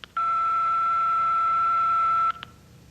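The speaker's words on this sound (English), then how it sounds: "leave them at the sound of the beep." An answering machine gives a single long, steady electronic beep lasting about two seconds, clean and loud, followed by a faint click.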